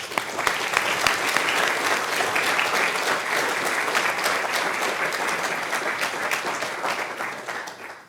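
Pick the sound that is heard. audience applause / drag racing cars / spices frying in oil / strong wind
audience applause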